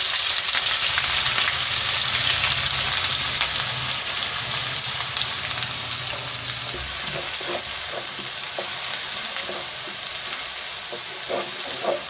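Onions and cumin sizzle steadily in a hot karahi of oil while cooking aloo karahi, with continuous frying hiss and occasional stirring scrapes toward the end.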